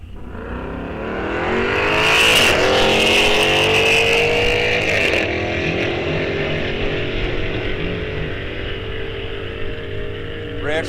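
Two cars launch hard in a bracket drag race, a Dodge Challenger against a Pontiac G8. Loud, close engine roars rise as they accelerate, then a sustained high-revving drone recedes down the strip under outdoor wind.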